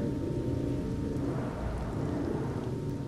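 Steady rain pours down with low rumbling thunder rolling underneath during a Final Fantasy XV storm, a dense continuous hiss with no voices.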